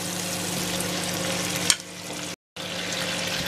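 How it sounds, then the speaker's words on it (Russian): Food fries in a pan with a dense, steady sizzle, loud and close, cut by a brief scrape and a short dropout near the end. "Так немного обжарю и добавлю немного вина."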